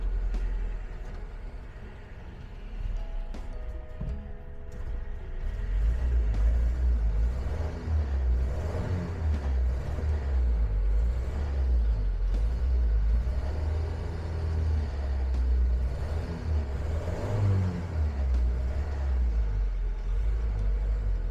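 A 1976 Land Rover Series 3 ambulance idling after sitting parked for nearly a year: a steady, close, low engine rumble that builds slightly after the first few seconds and holds for the rest, with no talking.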